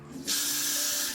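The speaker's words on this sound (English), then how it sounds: "Very important to also spray the ends up here in" Hairspray hisses from an aerosol can onto the ends of a high ponytail, one continuous close burst starting abruptly and holding steady for about a second.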